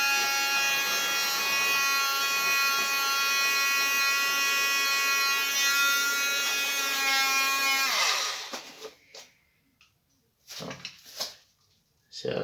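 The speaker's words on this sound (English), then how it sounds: "even with little handheld hoover." A small handheld hoover run over model railway track gives a steady, loud electric whine for about eight seconds, then cuts off and winds down, followed by scattered clicks and handling noise.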